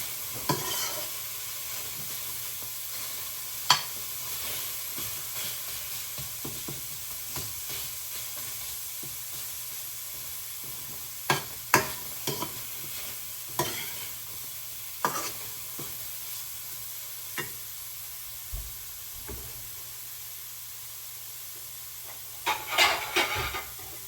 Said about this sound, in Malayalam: ചെറുതായിട്ട് ചൂടാക്കി എടുക്കാം. ആ ചൂട് തവയിലിട്ടിട്ടൊന്ന് ഇത് ചെയ്താൽ മതി.